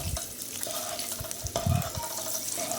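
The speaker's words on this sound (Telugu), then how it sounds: "దీంట్లో 4 ఎగ్స్ని కూడా బాగా బాయిల్ చేసి వేపుకోవాలి." Four boiled eggs fry in oil over a medium flame, a soft continuous sizzle with a few light stirring clinks, close and fairly quiet.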